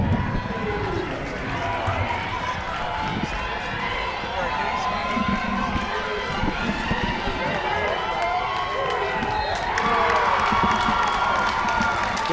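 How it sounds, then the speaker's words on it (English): A crowd cheering in a gym at a championship wrestling match, a continuous roar of shouts and voices with footsteps and scattered thumps, loud and close, mixed with people talking. "The cheer you hear is the result of another pin win by the Blue Devils."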